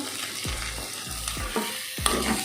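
Onion and capsicum sautéing in a pan for green peas fried rice, a continuous sizzle with four or five distinct scraping strokes of a spatula at a regular pace.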